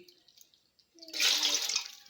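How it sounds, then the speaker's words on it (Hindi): Water pours into a pot in a steady splashing rush after a second of near quiet, close and fairly loud. "ये देख के मैं 6 गिलास पानी डालने लगी हूँ"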